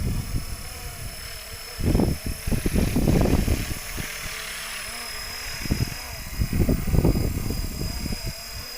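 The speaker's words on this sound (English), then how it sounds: "Today it's about the Black Hawk. It's a 450 size RC helicopter using the Blade 230S mechanics" A 450-size Black Hawk RC helicopter on Blade 230S mechanics with a four-blade main rotor hums with a steady high whine, rising in bursts of louder rotor thrum as it maneuvers at moderate distance.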